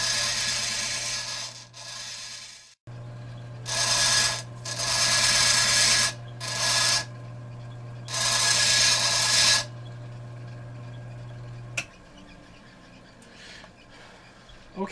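Agate stone being ground into a marble sphere, bursts of harsh rasping grinding over a steady motor hum, repeating in uneven passes before the motor winds down.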